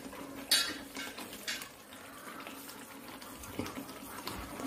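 A spoon stirs roasted cashews and raisins into a moong dal sweet in a pan, giving faint scrapes and a few sharp metallic clinks against the pan over quiet background noise.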